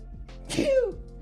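A single sharp human sneeze, close and loud, a quick inhale followed by an abrupt burst.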